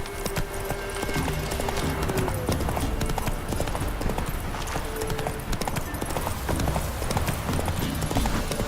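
Roach the horse gallops in The Witcher 3, hooves clip-clopping in a steady rapid rhythm that stays close and loud throughout, with faint game ambience underneath.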